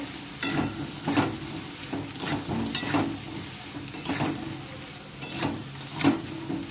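Spice paste with ginger and garlic sizzles and fries in a pan while being stirred, with repeated scraping strokes recurring every second or so over a steady close-up crackle, no talking.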